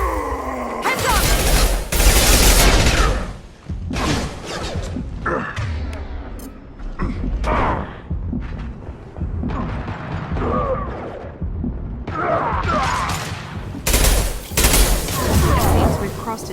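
Heavy gunfire erupts in a Mass Effect 2 firefight: loud, dense bursts of shots and impacts come in waves with brief lulls, and voices shout over the combat.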